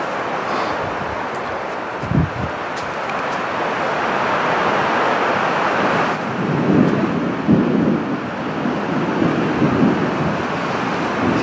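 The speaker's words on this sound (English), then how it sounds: "It's been thundering up until the time I turned the camera on" Thunder rumbles low and distant through a roaring Arizona monsoon storm, with strong wind and rain hiss throughout and a couple of heavier swells of rumble near the end.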